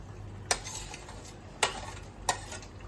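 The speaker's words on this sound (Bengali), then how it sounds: "বেগুনটা দিয়ে একসঙ্গে ফুটিয়ে নিচ্ছি এটা" Brinjal stirred into a pot of boiling potato curry, with three sharp spoon-against-pot clinks spaced about a second apart over a low bubbling background.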